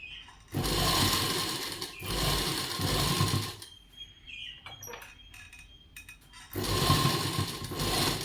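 Sewing machine stitching a blouse, running in three loud sustained bursts with a quieter pause of small clicks and handling noises between them, close by with no talk.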